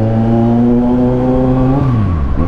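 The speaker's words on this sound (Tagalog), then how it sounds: "karamihan ng mga Kawasaki bikes, gaganda ng tunog, ganda ng exhaust" A 2022 Kawasaki Z900 motorcycle engine holds a steady, loud idle-to-mid rev with a rich exhaust note, then the pitch drops and wavers near the end as the revs fall, close by with no talking.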